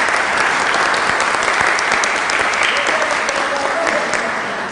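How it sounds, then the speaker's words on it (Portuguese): Loud, sustained applause from an audience of school students welcoming a theatre group, with dense clapping filling the room close by and holding steady the whole time. "Uma salva de palmas, por favor."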